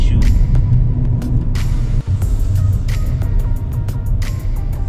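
2022 Proton Persona Facelift with its 1.6-liter VVT engine driving, a steady low road and engine rumble from inside the car, marked by repeated short ticks and clicks.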